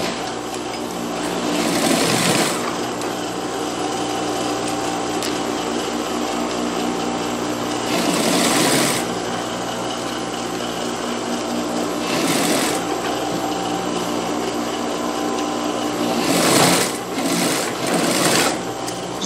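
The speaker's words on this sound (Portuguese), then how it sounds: "Costurar aqui a parte do ombro, unindo frente e costa." A sewing machine runs in steady bursts while stitching the shoulder seam of a child's dress, joining front and back pieces, with brief pauses between runs.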